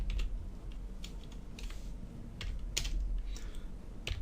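Code being typed on a computer keyboard makes irregular, close-up clicks and key taps in quick bursts over a quiet, low background hum.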